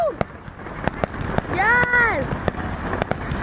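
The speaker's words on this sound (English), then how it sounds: "Enjoy the fireworks, please, with emotions." A July 4th fireworks display at a park, with a series of sharp pops and booms at irregular intervals and a rising whistle in the middle. A voice speaks briefly.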